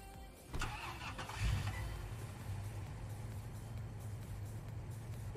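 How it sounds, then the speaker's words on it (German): A car engine starts up in the Police Simulator: Patrol Officers video game, cranking briefly, then settling into a steady mid-pitched idle that runs on alone at moderate loudness. "Ah, da ist ein Auto."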